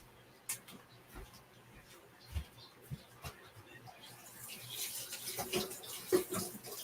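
Tap water runs softly as big leaves are rinsed at a kitchen sink, a low steady wash with scattered clinks and splashes that builds louder toward the end, with no talking.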